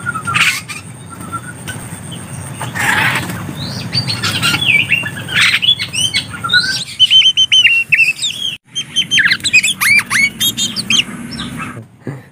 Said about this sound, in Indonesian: Terdengar suara burung ciblek batik